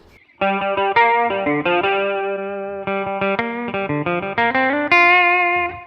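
A heavily distorted Parker Nitefly M electric guitar plays a quick, sustained melodic line, each note thick and saturated, loud and up close with no talking.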